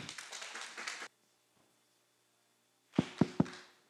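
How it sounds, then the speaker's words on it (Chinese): Audience at an industry talent forum claps to welcome a science park director; a short, close burst of applause stops abruptly, followed after a pause by three distinct thumps. "掌声欢迎局长"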